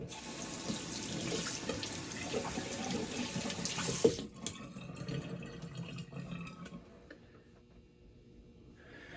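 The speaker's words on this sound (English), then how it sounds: "I'm just going to rinse everything off real quick" A bathroom tap runs in a steady close stream as a shaving bowl and brush are rinsed, with a clunk midway before the flow thins to trickles and drips.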